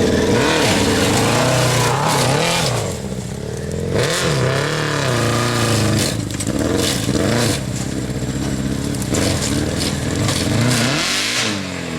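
Vehicle engine idling and revving in short surges as it rolls forward up a hill in a workshop yard, a loud, continuous mid-pitched drone that rises and falls over about twelve seconds with no talking.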